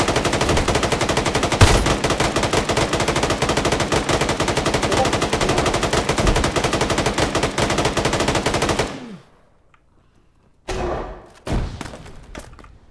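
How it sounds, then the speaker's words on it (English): Sustained automatic gunfire in the video game Arma 3, loud and dense for about nine seconds, then cutting to near silence before a few more sharp shots and thuds near the end. "Can you stop firing on me, please?"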